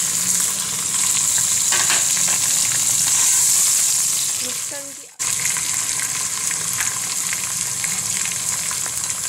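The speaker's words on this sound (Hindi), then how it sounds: "अब मैं इसमें टमाटर डाल दूंगी।" Tomatoes sizzle steadily in a hot pan of browned onions for a kidney bean (lobia) curry, a loud, continuous frying hiss that dips briefly midway and then resumes at full strength.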